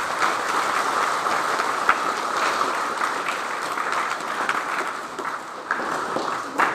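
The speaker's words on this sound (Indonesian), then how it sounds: "Tepuk tangan untuk Yesus." Church congregation clapping together, a steady full applause from many people in a reverberant space, holding at an even level throughout.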